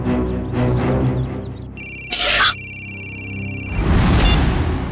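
A phone call rings out as a steady electronic warble, loud and close, set against dramatic music with a sharp shimmering hit and a noisy swell at the end.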